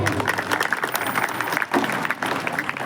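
A seated crowd gives the children a round of applause, a dense continuous wash of many hands clapping close by with a faint murmur of voices mixed in.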